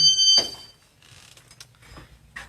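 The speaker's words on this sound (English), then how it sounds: "The door is going to beep as we open it." A school door gives a short electronic beep, followed by a brief clunk and quiet mechanical noises as it opens.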